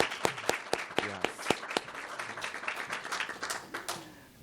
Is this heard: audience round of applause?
yes